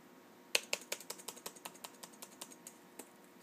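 Typing on an external keyboard plugged into a MacBook, a quick burst of sharp, close key clicks that slows and thins out, then one last isolated tap, in a quiet room.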